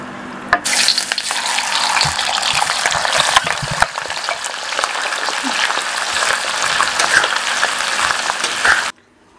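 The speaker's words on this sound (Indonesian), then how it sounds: "Terus nanti kita goreng." Sliced meat and offal frying in hot oil give a loud, steady sizzle with crackling and occasional stirring clatter, running continuously before cutting off abruptly near the end.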